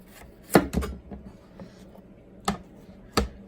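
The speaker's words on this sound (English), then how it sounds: "So now we're going to just cut the very end off." A knife slices the end off a watermelon in a quiet kitchen, giving two or three sharp close chops with a short rustle between them and no talking.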